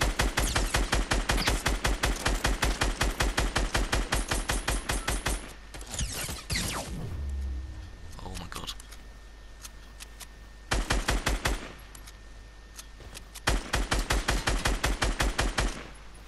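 Rapid automatic gunfire in the Fortnite battle royale video game, loud bursts of fast repeated shots at the start and end, separated by a quieter stretch of rumble and movement noise.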